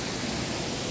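A waterfall at Pura Panca Tirta Sudamala in Wanagiri, heard as a steady, dense broadband roar of falling water, even and unbroken through a short moment.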